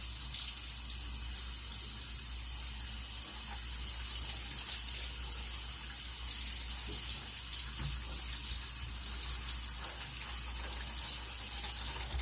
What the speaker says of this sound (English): You want to make sure you get them pretty rinsed